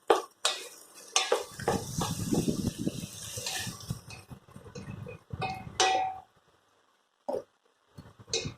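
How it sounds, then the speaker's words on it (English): Spoon scraping and clanking through macaroni masala in a metal cooking pan, busy rhythmic stirring with soft sizzling, pausing near the end before a few last clinks. "Now you just have to mix it all up nice and good."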